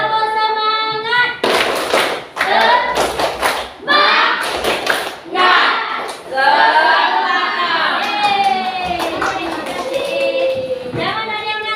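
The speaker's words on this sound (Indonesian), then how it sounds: "ayo kita tepuk semangat dulu" A class of students does the 'tepuk semangat' group clap, with loud rhythmic bursts of hand claps in quick patterned sequences, broken by short chanted vocal parts.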